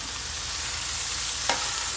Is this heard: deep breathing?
no